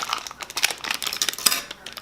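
Plastic toy packaging for a Poopsie Sparkly Critters bottle being cut and crinkled open, a steady run of close crackling rustles and small sharp snips for about two seconds.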